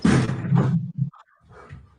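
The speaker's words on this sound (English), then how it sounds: "You heard how hard that door hit?" A door slams hard with a sharp thud amid loud voices, followed by quieter room noise.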